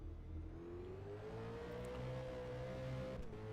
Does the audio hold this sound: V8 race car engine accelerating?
yes